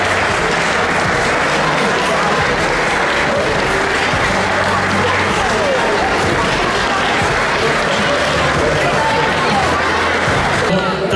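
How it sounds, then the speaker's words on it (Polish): A hall crowd at a club's tenth-anniversary gala in Rydzyna Castle gives loud, continuous applause for a company representative. Thick, even clapping fills the whole stretch, with faint crowd murmur underneath. "Jest pani Ewelina, także wielkie, głośne brawa."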